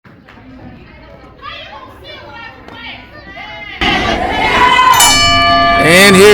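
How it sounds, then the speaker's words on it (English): At a Leva Bates vs Sassi wrestling match, the ring bell sounds with bright, sustained tones over loud crowd noise, following a stretch of chatter and voices. "And here's the bell."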